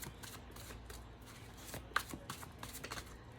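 Playing cards being shuffled: a faint, close, quick riffle of rapid crisp flutters with a few sharper snaps toward the end, no voices.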